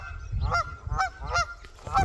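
Geese honk loudly and repeatedly in a steady rhythm of about four calls, close by outdoors, with low wind rumble underneath.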